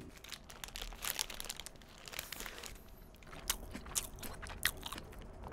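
Close, crunchy bites and chewing while eating a bacon cheese dish, with crinkly crackles and repeated sharp crunches spread throughout, fairly quiet and with no talking.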